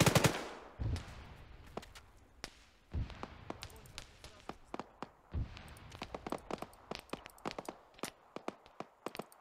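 Rapid bursts of gunfire in the military game Arma 3: loud close shots and short automatic volleys, with a few heavier booms among them. Quieter distant reports fill the gaps.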